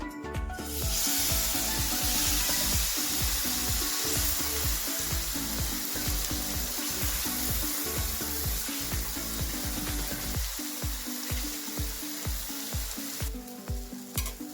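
Mango malpua batter frying in hot oil in a pan, a dense continuous sizzle and crackle heard up close, with a rhythmic series of low scraping pulses running under it; no talking.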